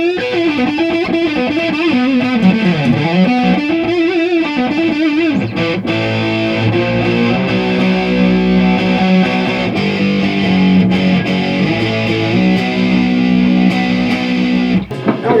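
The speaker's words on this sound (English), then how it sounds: "Sounds like a distortion pedal." Electric guitar played through a Behringer HM300 distortion pedal with controls set to noon, loud thick distorted riffs and sustained chords, heavily saturated and continuous, with no talking.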